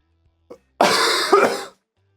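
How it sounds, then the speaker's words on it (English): One big, harsh cough, close and loud, lasting about a second with a rough throat-clearing quality, after a faint click. "Big cough"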